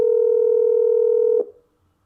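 A single steady telephone tone, like an outgoing call ringing on the line, holds clear and loud for over a second and then cuts off abruptly, leaving near silence.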